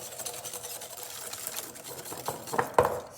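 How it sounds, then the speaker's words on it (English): A hand whisk beating sugar into egg yolks for tiramisu: quick, quiet, continuous scraping and tapping against a bowl, with a few louder clinks near the end. "just whisk this up so the sugar blends"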